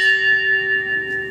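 A single deep toll of a church bell at a memorial for the Omagh bombing victims, loud and close, its pure ringing tone sustaining and slowly pulsing as it fades, with no voices.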